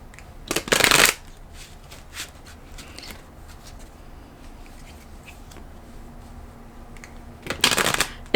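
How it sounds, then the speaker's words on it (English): Tarot cards being shuffled and drawn: two brisk riffling bursts, one near the start and one at the end, with quiet handling and light rustles in the calm stretch between them. "I'm just going to pull one more card just to close off this reading"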